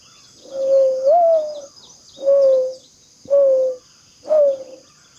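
A bird gives four clear, hooting coos in a slow, even rhythm, fairly loud and close, over a faint high electrical whine.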